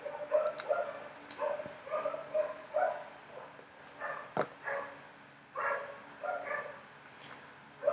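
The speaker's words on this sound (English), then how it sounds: "And if you're hearing the dogs" Dogs barking outdoors in Bali, a string of repeated sharp barks and yips at moderate distance, coming in irregular bursts with brief whimpers between them.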